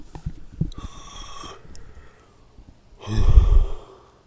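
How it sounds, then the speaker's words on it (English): A long, drawn-out breathy exhale close to the mic, followed after a pause by a deeper, heavier breath like the end of a yawn. "Yawning. Whispering makes me yawn."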